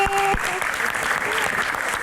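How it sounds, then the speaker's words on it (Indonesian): A studio audience at a Q&A show gives loud applause welcoming a guest, a thick burst of clapping from many people with a voice calling out over it at the very start. "Kita berikan tepuk tangan yang luar biasa untuk Mbak Arumi."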